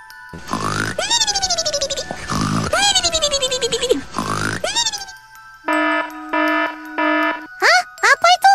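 A CCTV alarm sounds in an animated cartoon as strange, warbling, grunting blasts with sweeping pitch. Steady electronic beeps in a regular pattern follow, then quick rising chirps, all loud and with no talking over them.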